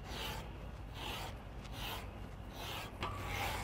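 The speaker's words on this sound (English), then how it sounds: "by using a rasp and just running it across" A rasp is run back and forth across the top edge of a Hebel aerated concrete panel to cut a V groove, making a gritty, rhythmic scraping in about five close strokes.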